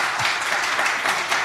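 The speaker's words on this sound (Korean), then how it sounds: "갑자기 박수를 주시니까 제가 어쩔 줄 모르겠네" A church congregation at a Sunday worship service claps in a brief, steady burst of many hands, close and fairly loud, with no one speaking over it.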